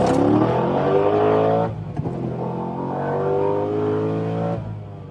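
An LS3-swapped C6 Z06 Corvette engine revs hard on a dyno, pitch climbing smoothly, briefly dropping, then pulling up again, loud and close with no talk.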